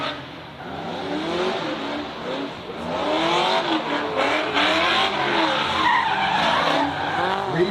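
A Mazda Miata and another drift car sliding side by side in a drifting battle, tyres squealing in long wavering screeches over revving engines, loud and continuous throughout with no voices.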